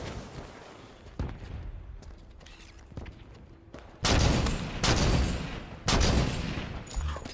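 Loud sniper rifle shots from the Halo 5 Guardians video game: a few sharp, booming reports at separated intervals over quieter game ambience, with longer reverberant tails.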